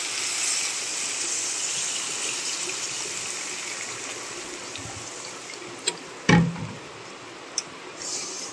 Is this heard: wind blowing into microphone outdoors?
no